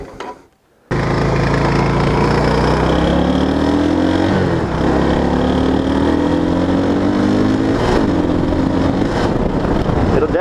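A Yamaha V Star 650 Classic motorcycle engine running close and loud, with a steady idling rumble and rising revs that blip twice before settling back.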